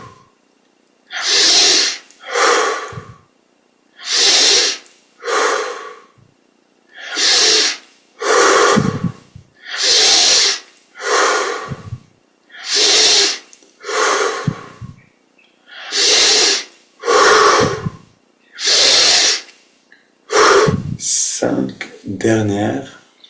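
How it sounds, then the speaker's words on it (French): Deep breathing exercise during a yoga and meditation session, a steady series of loud, close, rushing inhales and exhales growing fuller, about sixteen breaths spaced evenly with short silences between. "On augmente maintenant l'amplitude des respirations pour atteindre petit à petit le"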